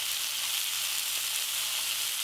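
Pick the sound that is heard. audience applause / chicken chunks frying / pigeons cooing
chicken chunks frying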